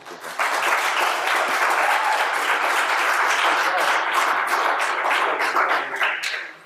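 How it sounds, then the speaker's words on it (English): A city council meeting audience applauds steadily for several seconds, dense clapping at a constant level that fades out at the end. "Clapping."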